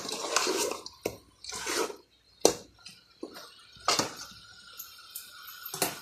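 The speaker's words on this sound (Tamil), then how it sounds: "இப்போ தேவையான அளவு தண்ணி ஊற்றிக்கணும்." Water poured into a pot of chicken on a home stove, heard as short splashy pours and drips with clinks of the pot between gaps of quiet, close and moderately loud.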